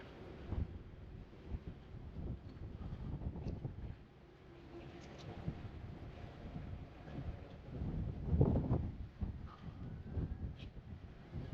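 Wind buffeting outdoors at a naval war memorial in Portsmouth, a low rumbling gusty roar across the microphone that swells and eases, strongest near the end, with no voices.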